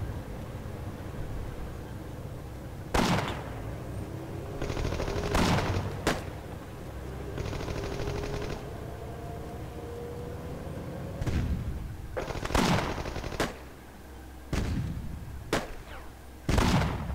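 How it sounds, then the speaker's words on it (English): Machine gun bursts and scattered gunshots in a World War 2 strategy video game, sharp cracks and short rattling volleys spread irregularly over a steady battlefield rumble, with no speech. "We have some machine gunners here now too."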